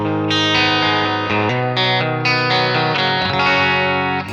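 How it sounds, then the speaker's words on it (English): A Gretsch guitar played through a NUX Amp Core modeling a clean Fender Bassman into a Marshall 2x12 cab, ringing chords with chorus-like shimmer, loud and close with no talking. "So that is a Fender Bassman with I think a Marshall 212 cab."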